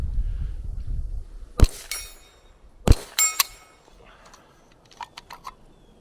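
Two suppressed .22 rimfire shots from a rifle with an AnechoX can, fired at a 10-inch steel target at 100 yards, each a sharp near crack with a faint metallic ring, followed by light handling clicks and rattles.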